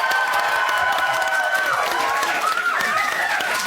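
A television studio audience for The One Show cheers and screams for a band, a steady, excited crowd roar with shrill voices rising above it throughout.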